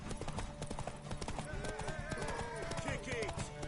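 Rapid hoofbeats clatter in a galloping rhythm amid busy game sounds, with a horse whinnying and voices mixed in.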